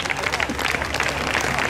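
Audience at a Misano Adriatico motoclub presentation of young racing children applauding steadily for Mattia Pasini from Riccione, a dense even patter of many hands with speech faintly under it.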